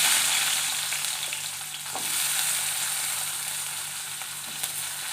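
Shallots, garlic and green chillies sauté in a pan for mint leaf chutney, a steady close sizzle with soft stirring scrapes, swelling slightly and easing, with no talking.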